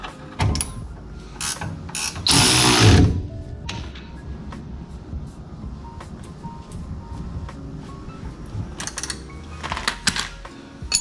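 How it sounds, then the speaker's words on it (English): A hand ratchet tightens the 17mm nut on the lower fork of a Honda Civic EG during a shaft install, with quick clicking bursts near the start, a loud harsh stretch around the middle and further clicks at the end. "tighten the bottom part of the fork. So that's a 17 with a 17mm nut on the other side."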